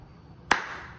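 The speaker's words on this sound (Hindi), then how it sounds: "ताली बजी" A single sharp hand clap, close and crisp, standing alone against a quiet background with a short trailing decay.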